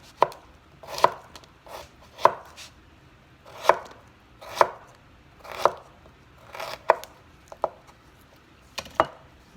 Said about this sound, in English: I'm going to show you how to cut it. Cut it into half